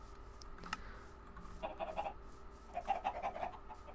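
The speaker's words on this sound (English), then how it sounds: "What's that? Are those chickens!" Chickens in a Minecraft modpack cluck in two quick bursts of short, clipped calls, close and clear over a soft ambient background.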